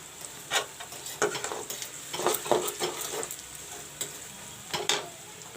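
Onions fry brown in a pan for chicken gravy, a steady close sizzle broken by repeated scraping stirs of a utensil against the pan at an uneven rhythm, with no talking.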